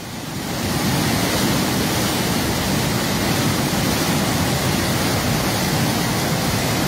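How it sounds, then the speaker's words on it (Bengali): Floodwater from the Khowai river rushes through a breached embankment near Habiganj, a loud, dense, unbroken roar that swells in within the first second and then holds steady, with no voices. "দেখেন বিপজ্জনক পানির কি শব্দ আপনারা শুনতে পাচ্ছেন"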